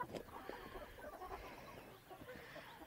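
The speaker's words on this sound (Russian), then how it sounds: "О, что-то петух вышел один." A rooster clucks softly in short, scattered bursts, fairly faint, with no talking.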